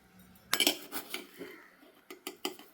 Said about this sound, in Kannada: ದ್ರಾಕ್ಷಿ ಎಲ್ಲ ಕಟ್ ಮಾಡಿ ಆಯಿತು ನಾನೀಗ ಮಡಿಕೆಗೆ ಹಾಕೊಳ್ತಾ ಇದ್ದೇನೆ